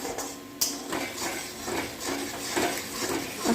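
Tomato paste and salt get stirred in oil in a pan, producing repeated scraping and clinking of a utensil against the metal along with a soft sizzle, steady and close.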